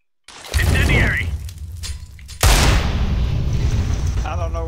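An incendiary grenade in a video game bursts into a sudden loud whoosh of flame, followed by a sustained crackling roar of fire. A voice is heard just before the burst.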